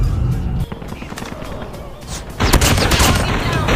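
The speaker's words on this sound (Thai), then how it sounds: "ยิงรัวขนาดนี้" Rapid automatic gunfire from a Call of Duty Mobile match, loud and dense bursts that fill the clip, easing briefly then surging again near the end.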